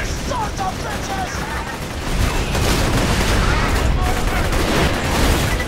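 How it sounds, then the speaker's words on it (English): Dense rapid gunfire from a shooter video game, Borderlands 2, rattles in continuous bursts with explosive thumps, growing louder midway through. "Why should we shoot him when Mordecai just kicks his ass"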